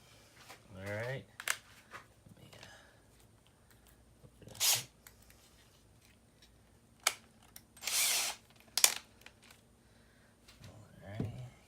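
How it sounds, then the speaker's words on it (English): Power drill boring holes in a plastic kayak hull to fit a Bonafide SS127 seat update kit, several short whirring bursts separated by pauses, close and clear, with quiet handling sounds in between. "let me go ahead and get my drill right quick, and we'll start putting holes in here"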